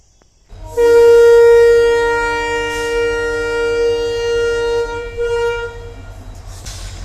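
A train horn sounds one long, loud blast close by at a station, then fades into the low rumble of the Chamarajanagar to Mysuru train pulling away.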